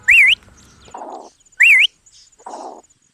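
A bird whistles a quick wavering trill, then gives a raspy squawk; the pair repeats twice, close by and alone in a park.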